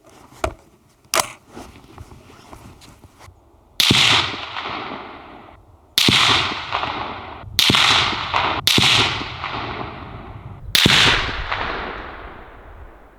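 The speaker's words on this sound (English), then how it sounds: "I'll be shooting on the center target." Rifle shots fire 175 grain ammunition at a target: two small cracks, then five loud, sharp reports spaced a couple of seconds apart, each followed by a ringing echo that dies away.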